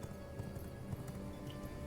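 A horse's hooves clip-clop in the video game V Rising, a steady, rapid rhythm of soft footfalls under a constant background hum, moderately quiet.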